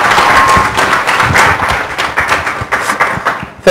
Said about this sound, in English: that applause at the Bodega Marine Lab